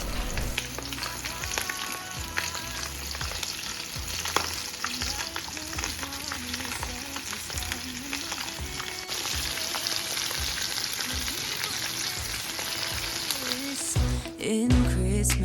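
Chicken wings fry at an outdoor barbecue cookout with a dense, continuous close sizzle and crackle, ending with a brief clatter and thump, with no voices.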